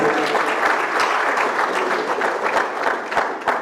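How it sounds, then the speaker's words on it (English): A hall audience at a Nigerian youth conference breaks into loud, sustained applause, many hands clapping densely and evenly throughout, with a slight swell near the end. "please give him a resounding round of applause."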